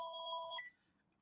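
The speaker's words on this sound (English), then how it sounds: "I think it's an automated phone call." A telephone rings faintly with a short two-tone electronic chime, held for about half a second before cutting off and fading into quiet room tone; the call is an automated one from an American number.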